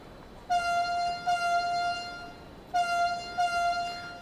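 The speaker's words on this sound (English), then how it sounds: "Only got a single tone horn." A single-tone locomotive horn in Train Sim World 5 on the Pfälzische Ludwigsbahn sounds two pairs of short, loud blasts, each with a rich buzzy harmonic stack, over low rumbling train noise.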